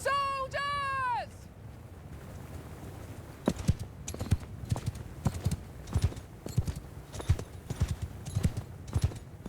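A brief whinny-like call, then a steady run of hollow horse hoof clip-clops at a walking pace, close and distinct, with ambience from the game Mount & Blade II: Bannerlord underneath.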